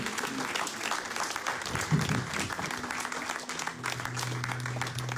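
A church congregation claps steadily and continuously, dense and close, with faint cheering and low voices mixed under the applause.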